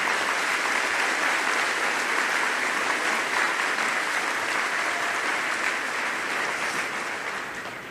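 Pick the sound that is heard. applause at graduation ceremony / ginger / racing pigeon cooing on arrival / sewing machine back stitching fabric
applause at graduation ceremony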